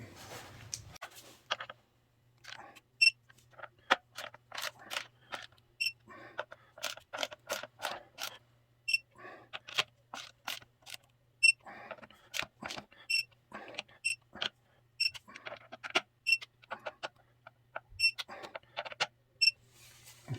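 Bolts on a Harley-Davidson derby cover are tightened with a torque wrench set to about 95 inch-pounds, giving a steady series of sharp, close ratcheting clicks throughout, with no talk.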